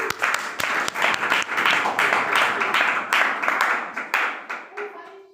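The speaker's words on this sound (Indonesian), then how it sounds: "Wis aplaus rek." A classroom of students breaks into sustained hand clapping for a classmate at a progress report session, loud and close, with a burst of cheering near the end.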